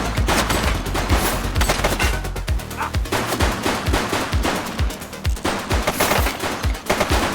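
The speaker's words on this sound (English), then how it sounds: "Shots fired!" Rapid bursts of gunfire in the police video game The Precinct, with dense overlapping shots and sharp cracks firing continuously and loudly, no talk.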